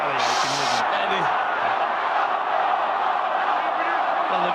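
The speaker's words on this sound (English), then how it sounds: "the crowd in the south stand are chanting off" A rugby league crowd in the south stand of a stadium chants during a Leeds Rhinos versus Manly Sea Eagles match, a dense continuous roar with a commentator's voice over it.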